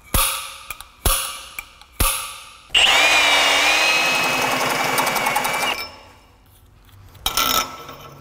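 A power drill boring a bolt hole through metal during a structural rust repair, opening with three sharp clanks, then a loud sustained whine with rising pitch for about three seconds, and a brief final burst.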